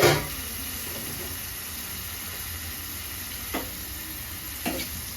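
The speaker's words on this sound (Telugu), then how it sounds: "చికెన్ వేసుకున్న తర్వాత బాగా మిక్స్ చేయాలి అన్నీ కలిసేటట్టు" Chicken pieces fry in hot oil for a curry, a steady close sizzle and hiss, with a couple of sharp spoon-against-pan scrapes as the mixture is stirred.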